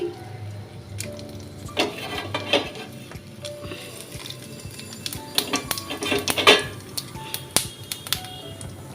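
A tempering of cumin, bay leaf and dried chilli hitting hot oil, crackling and spitting in bursts alongside clinks of a metal spoon against the pan, close and fairly loud, no one talking.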